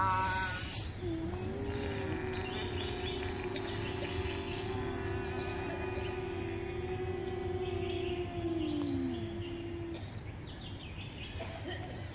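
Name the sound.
ujjayi pranayama breathing with throat sound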